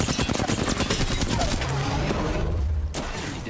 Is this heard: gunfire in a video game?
yes